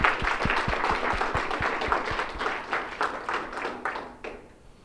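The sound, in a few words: audience applause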